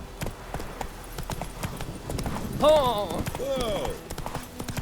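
Quick clip-clopping hooves of Roach, the horse in The Witcher 3: Wild Hunt video game, gallop fast and close. A voice calls out briefly over the hoofbeats.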